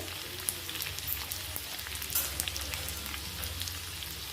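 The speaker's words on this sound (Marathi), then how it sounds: "आपलं आलं पण छान परतले आणि मिरच्या पण मस्त परतल्या बघा तेलात" Green chillies and grated ginger fry in hot oil with a continuous close crackling sizzle, dotted with small pops, and no voices.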